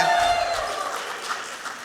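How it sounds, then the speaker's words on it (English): An audience at the 2014 Pollie Award ceremony breaks into applause and some cheering, a brief steady wash of clapping that fades slightly over under two seconds. "You're supposed to cheer."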